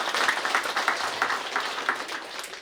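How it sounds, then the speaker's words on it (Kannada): An audience claps for Chattalli Mahesh at an evening cultural programme on its 27th day, a fairly faint, steady patter of many hands with small rhythmic surges, heard at a distance. "ಒಂದು ಜೋರಾದ ಚಪ್ಪಾಳೆ ನಮ್ಮ ಚಟ್ಟಳ್ಳಿ ಮಹೇಶ್ ಅಣ್ಣನವರಿಗೆ"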